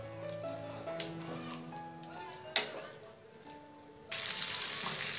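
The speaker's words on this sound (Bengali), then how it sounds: "এবার এই মশলার সাথে খুব ভালোভাবে চিকেনগুলোকে নেড়েচেড়ে মিশিয়ে নিতে হবে।" Pre-fried chicken tossed with masala in a pan, with a sizzle and occasional scraping stirs, a sharp clatter midway, and a louder burst of frying near the end.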